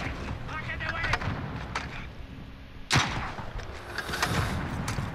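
Gunfire in a video game, a sniper shooting through a house window, with a few sharp shots, one especially loud crack near the middle, over steady background noise and game ambience.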